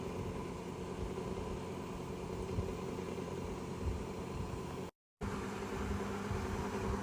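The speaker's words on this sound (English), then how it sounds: "I heard the fan ramp up, so it is making a little more noise." The fan of a BougeRV PC35 Pro portable air conditioner runs in turbo mode with a steady, even whoosh and hum. It is close and continuous, with one brief dropout near the end.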